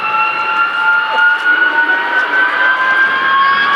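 F-35 fighter jets spooling up their engines at an airshow in Stord, a loud steady turbine whine with rising high tones over a broad roar, sustained and fairly near.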